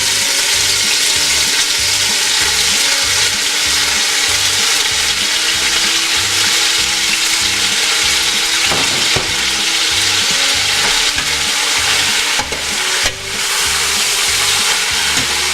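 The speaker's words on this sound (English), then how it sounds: "You're browning it like you would your ground beef." Chunks of beef browning in batches in a pot for chunky chuckwagon chili, a loud, steady close-up sizzle and crackle of frying meat with occasional stirring scrapes, no talking.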